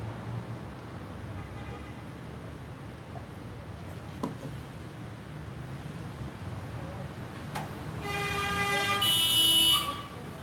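A car horn sounds outdoors near the end, a loud, sustained, harmonic-rich honk of a couple of seconds. Before it there is only a quiet ambient hum with a few brief knocks.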